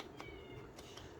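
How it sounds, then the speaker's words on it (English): A pet cat meows in a kitchen, two or three short cries close by over a quiet room hum, with no talking. "she's just meowing out a storm in the kitchen right now."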